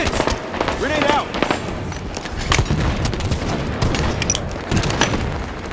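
Halo 5: Guardians Warzone combat with bursts of gunfire and booming impacts, including a grenade explosion, sustained throughout amid game voice callouts and speech.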